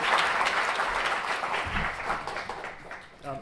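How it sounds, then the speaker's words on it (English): An audience gives a round of applause for guests Shane and Bill on stage, a steady mass of clapping that thins toward the end, with a voice faintly present underneath. "give a round of applause"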